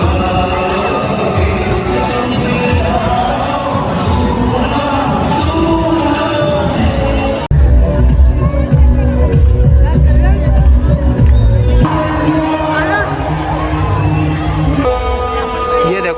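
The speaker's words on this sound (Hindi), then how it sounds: "ये देखो भाई तगड़ी भीड़, आज संडे है ना, इस वजह से ज़्यादा भीड़ हो रखी है" A large Sunday crowd fills the air with dense hubbub, overlapping voices and occasional shouts, loud and close throughout, with a sudden change in the mix partway through.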